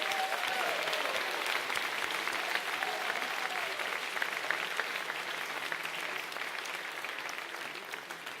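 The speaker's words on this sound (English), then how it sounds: "let's give a big round of applause for all 25 finalists" A large audience at the HackZurich 2017 closing ceremony applauds all 25 hackathon finalists, a dense, steady wash of clapping that holds for the whole stretch at an even, loud level.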